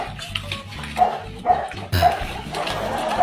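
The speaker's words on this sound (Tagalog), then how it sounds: "Galit naman ang aso mo." A pet dog barks several times in short, sharp yaps spaced about half a second apart, close and fairly loud over a busy outdoor background with faint voices.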